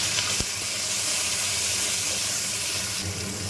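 Chicken pieces fry in hot oil with salt, giving a loud, steady, close hiss and sizzle with spattering crackles throughout, and no talking.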